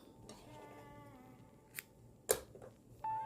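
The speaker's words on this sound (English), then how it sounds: "And then I'm going to cut my yarn" Scissors cut crochet yarn with a couple of sharp, brief snips close by, set against a quiet room with faint background sounds.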